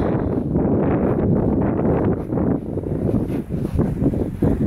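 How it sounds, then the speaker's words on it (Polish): Steady, rumbling wind buffeting the microphone, a loud low roar that swells and dips throughout with no clear voices. "ten wiatr jest e, taki coraz większy też"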